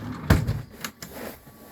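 A kitchen drawer in a 2019 Elddis Signature CV40 caravan slides with one sharp thump near the start, then a couple of lighter knocks and rattles, heard close up with no talking.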